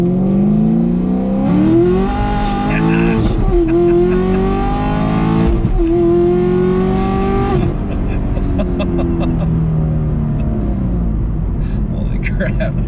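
A 2008 Infiniti G35 engine revs repeatedly, loud and close, with rising and falling pitch sweeps, while people talk over it.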